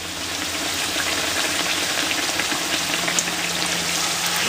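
Frybread dough sizzling steadily in hot oil, a dense continuous crackle and hiss with small pops, fairly close and even throughout with no one speaking.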